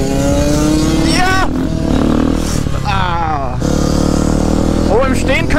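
A Yamaha DT125 motorcycle, restricted to 15 hp, accelerates in third gear in rising, falling sweeps of engine pitch. The engine is loud and close, with people talking over it.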